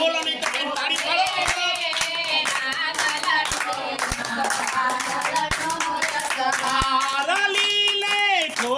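Steady hand clapping keeps time with a sung devotional Gujarati folk song to the goddess Randal, voices and music carrying throughout with the claps sounding in a regular beat under the singing.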